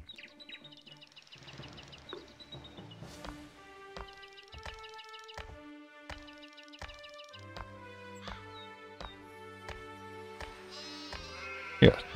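Soft bleats from a sheep farm in the Anno 1602 strategy game, mixed with chirping bird calls and tonal game music.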